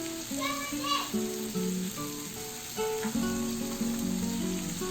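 Small chicken pieces with pepper powder fry in a pan, a soft sizzle underneath faint background music or voices, with occasional clinks across the few seconds.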